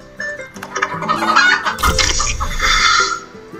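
Chickens cluck and squawk in the board game Castles of Burgundy on Steam, a loud, busy burst of fowl calls lasting a few seconds with no talk over it.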